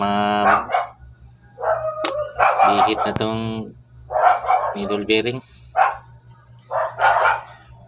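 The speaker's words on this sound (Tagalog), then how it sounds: "Maraming aso dito" Several sharp dog barks ring out between stretches of someone talking, with a steady low hum running underneath.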